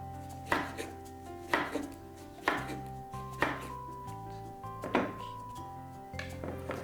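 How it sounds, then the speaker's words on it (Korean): A knife slices through a whole lemon with its peel on, six or so firm chops onto a cutting board at roughly one-second intervals, close and distinct. "레몬도 마찬가지로 슬라이스를 해서 넣어줄 거예요"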